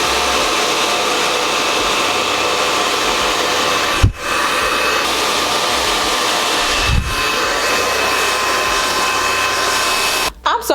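A hair dryer blow-drying hair roars steadily and loudly at close range, with two brief dips where the airflow is interrupted and a few stutters as it shuts off at the end; no one talks.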